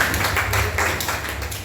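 A church congregation claps together in a quick, irregular burst of hand claps that fills the room briefly and fades.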